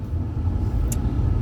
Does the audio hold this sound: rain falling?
no